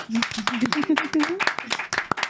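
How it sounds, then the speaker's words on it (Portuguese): A Brazilian talk-show studio audience claps quickly and steadily for the arriving guests, close and lively throughout the short stretch, with a voice speaking over the clapping. "Uma salva de palmas."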